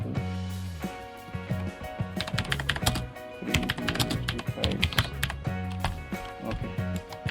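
Rapid typing on a computer keyboard, close and clear, with bursts of quick key clicks and brief pauses, heard alone over faint background music.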